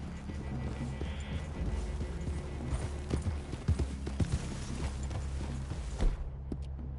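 In Red Dead Redemption 2, several horses walk with clear, irregular hoof clip-clops on the ground, close and moderately loud, over a soft low background rumble that cuts off near the end.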